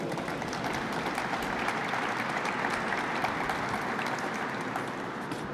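An audience at a legislation signing event for texting-while-driving penalties applauds steadily, dense continuous clapping at moderate loudness throughout.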